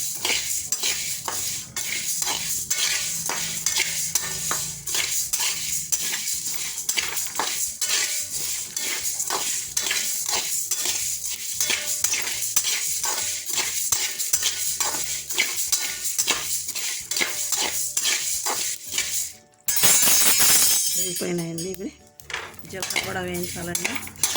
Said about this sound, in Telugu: కలర్లు వచ్చేలాగా వేగాలి వేగితేనే బాగుంటుంది